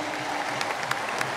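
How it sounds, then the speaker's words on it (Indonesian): A large crowd claps steadily at the 150th jubilee celebration of the HKBP church, dense continuous applause with a few sharper claps standing out. "Tepuk tangan untuk perempuan HKBP."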